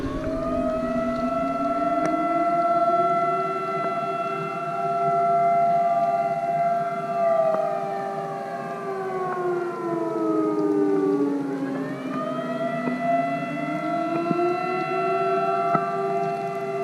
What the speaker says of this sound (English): That's the big fish siren right there.